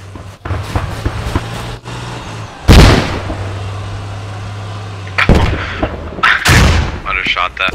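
Rocket and cannon fire in the video game Squad: a few sharp, loud booming shots separated by quiet stretches with a steady low engine hum, ending in a cluster of blasts and crackling.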